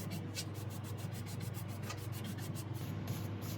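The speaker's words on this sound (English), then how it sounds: "And now for the final coats of our full strength blonde shellac." A pad rubs full-strength blonde shellac onto a turned wood piece in steady back-and-forth strokes, a close, continuous soft swishing with a regular rhythm throughout.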